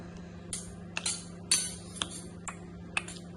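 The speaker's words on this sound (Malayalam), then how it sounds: "സ്പൂൺ വെച്ചാണ് താളം പിടി." A child taps a metal spoon to make rhythmic music, about seven bright clinks spaced roughly half a second apart over a quiet room hum.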